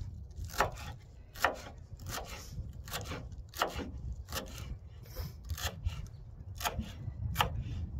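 A knife chops cilantro on a cutting board for chicken tacos outdoors, about a dozen sharp irregular strikes over a soft background rumble of wind.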